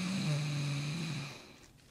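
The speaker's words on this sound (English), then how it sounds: "She snores so cute." A character in the video game Maize snores once, a short, nasal, rumbling drone held for about a second that then fades to quiet, heard alone.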